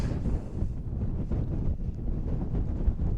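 Strong wind on Mynydd Mawr in Wales, known as Elephant Mountain, buffets the microphone during a wild camp, making a loud, continuous rumbling roar that lasts throughout.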